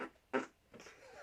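A short, low fart sounds near and fairly quiet during a spicy-food eating livestream, a single brief burst followed by faint rustling.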